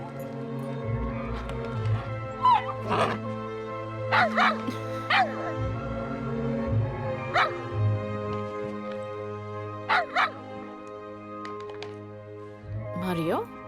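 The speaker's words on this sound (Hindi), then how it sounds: "इसे देखकर क्यों भौंक रहे हो तुम?" A dog barks and yips in short separate bursts, some doubled, over about fourteen seconds, fairly close, with a person speaking in between and a low background hum.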